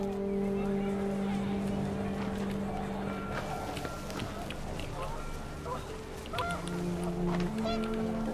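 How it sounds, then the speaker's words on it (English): Panicked geese honking and clamoring in a windy outdoor scene of the video game What Remains of Edith Finch, a busy overlapping flock at mid distance under wind and a narrating voice. "The wind picked up, and panicked geese appeared and quickly went."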